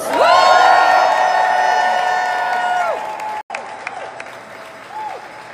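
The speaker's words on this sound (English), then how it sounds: "Give yourselves a round of applause" Loud audience applause and cheering at a political rally in Indianapolis fill the opening seconds, with whoops over dense clapping. The crowd noise fades after about three seconds, leaving a quieter murmur.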